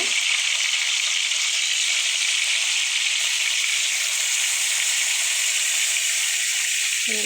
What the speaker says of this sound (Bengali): তেল গরম হয়ে গেছে, মাছ দিয়ে দিতেছি